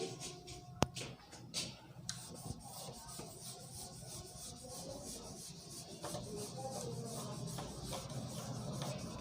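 A duster or cloth rubs writing off a classroom board in a continuous soft scraping swish that runs steadily throughout at a faint, close level.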